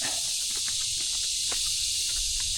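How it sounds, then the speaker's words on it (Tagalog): High, continuous cricket trilling fills a forest, steady and unbroken, with faint scattered rustles and footsteps underneath. "Maririnig mo lang dito mga huni ng kuliglig."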